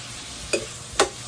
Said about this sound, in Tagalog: Ito lang pagigisa nito, medyo mahaba-haba.